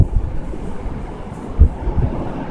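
Strong gusting wind roars through a violent snowstorm during a red-alert windstorm in Amiens, a loud steady rush with a brief buffeting thump midway and no voices.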